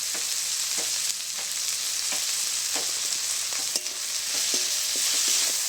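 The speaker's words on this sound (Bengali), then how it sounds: "সবকিছু আমি আবারও একটু মিশিয়ে নিচ্ছি নেড়ে চেড়ে" Tomato, green chili and spice mixture frying in a pan with salt and turmeric, a steady close hiss and sizzle while a spatula scrapes and stirs with irregular knocks, no voices.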